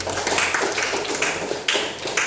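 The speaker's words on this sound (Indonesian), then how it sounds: "Tepuk tangan untuk Darren, Lucian, dan Rido" Students in a seventh-grade maths classroom clapping for classmates, a continuous crisp patter of many hands close by, moderately loud with a few sharper claps standing out.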